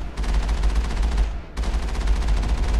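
Rapid automatic gunfire from the Mako vehicle in the video game Mass Effect, loud and continuous, with one brief break midway before the firing resumes.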